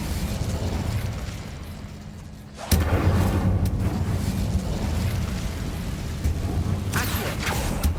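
Incendio fire spell cast in Hogwarts Legacy, a sudden whooshing fiery burst near the middle that swells into a sustained roaring crackle over a low rumbling game background, with no talk.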